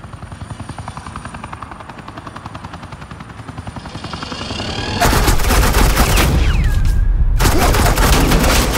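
Gunfire in the video game Batman: The Enemy Within, a steady helicopter rotor drone building up before loud sustained automatic bursts of suppressing fire break out and continue close and dense to the end.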